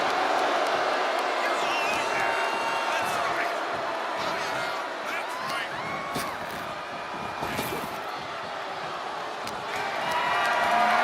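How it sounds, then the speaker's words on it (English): Dense crowd roar and cheering from a WWE 2K25 wrestling video game arena, sustained and loud throughout, with a busy broadband wash that dips slightly midway and swells again at the end. "The WWE Universe is showing their appreciation for the action they're seeing"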